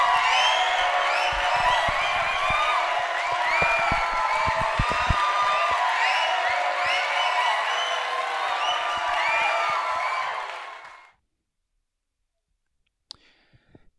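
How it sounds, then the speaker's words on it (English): A crowd claps and cheers with excitement, dense loud applause with whoops and shouts that holds steady, then fades out quickly into silence and a few faint clicks at the end. "Excited applause."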